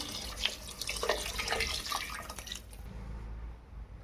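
Water is poured into a pot of rice while vegetable pulao is being made at home, giving a steady, hissing splash for about three seconds that then thins out into a quieter trickle.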